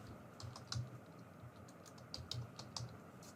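Keys clatter on a computer keyboard as someone types details into a form, a quick uneven run of soft close taps with no voices.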